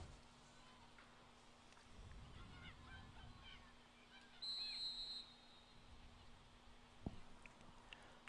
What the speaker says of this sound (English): We'll get a whistle here.